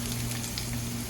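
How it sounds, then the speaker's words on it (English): Shredded cabbage sautéing in a pot with a little water for borscht, a steady soft sizzle and crackle close up, continuous and even with no talking. "I'm gonna let the cabbage saute."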